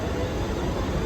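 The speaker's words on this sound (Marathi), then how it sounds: "चला आता ट्रेन आली" A train at a station gives a dense, steady low rumble of rail noise, close and continuous for about a second, with no talk.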